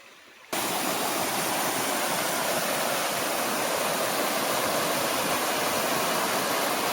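Jantala waterfalls at Sanguloya, with water falling over three tiers. A loud, steady, close roar begins abruptly after a brief quiet moment and holds unbroken, with no voices.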